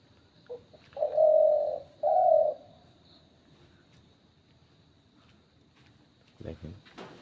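A dove coos twice in quick succession, two clear mellow hoots, close and fairly loud against a quiet background, followed by faint handling noise.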